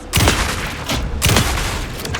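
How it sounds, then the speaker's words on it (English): Bursts of rapid gunfire in Alan Wake 2 crackle in two loud volleys about a second apart, sharp and close, with no talking. "Anderson, pin him down with gunfire for me to get the light on him."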